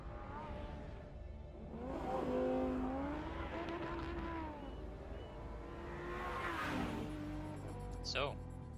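Racing car engines in a Forza Horizon 2 trailer, with engines revving and rising in pitch, cars whooshing past and tires squealing, at a moderate distance under people chatting.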